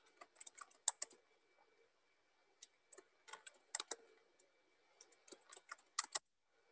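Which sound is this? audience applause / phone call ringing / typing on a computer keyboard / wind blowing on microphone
typing on a computer keyboard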